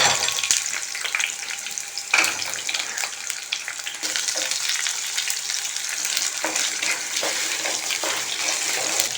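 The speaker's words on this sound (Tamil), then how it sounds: "வெங்காயம் ஓரளவுக்கு வதங்கிருச்சு." About twenty small onions sautéing in oil for a chutney give a steady, fairly loud crackling sizzle with occasional stirring clatter, with no talk.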